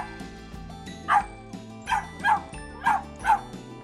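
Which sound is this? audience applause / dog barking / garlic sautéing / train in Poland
dog barking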